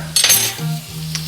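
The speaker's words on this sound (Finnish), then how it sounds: "meikäläisen ruoanlaittovälineet" Cooking pots, a frying pan missing its handle and a saucepan lid are handled up close, giving a couple of bright metallic clinks and clatters over a faint steady hum.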